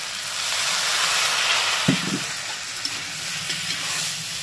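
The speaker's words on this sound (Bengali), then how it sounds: "একটু হালকা নেড়ে চেড়ে নিই" Spice paste of turmeric and chilli powder with a little water hisses continuously in a pan, close and fairly loud, with a couple of brief spoon scrapes as it is stirred.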